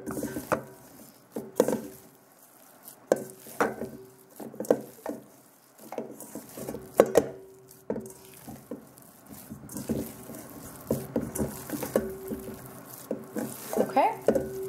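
Ground meat for Moroccan kefta kabobs being mixed in a bowl, repeated wet squelching and soft knocks in an irregular rhythm, close, with brief bits of voice in between.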